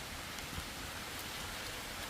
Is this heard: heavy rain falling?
yes